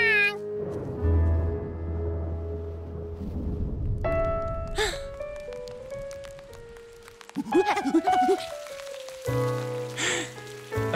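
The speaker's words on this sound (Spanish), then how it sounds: "¡Llueve!" Rain pattering on surfaces in a cartoon, a soft steady patter under bright musical notes and sound effects, with gasps and short vocal sounds mixed in.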